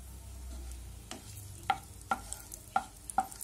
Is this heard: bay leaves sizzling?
yes